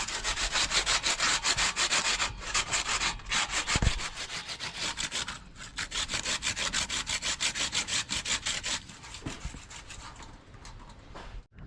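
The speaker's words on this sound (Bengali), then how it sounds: "যে আলুটাকে, ওই দাগি আলুটাকে মানে পচে গিয়েছিলো একটু, ওটাকে গ্রেটার করে নিয়েছি।" A partly rotten, spotted potato is grated on a hand grater in a quick, rhythmic series of rasping strokes. The close scraping goes on nearly nonstop, with a few brief pauses.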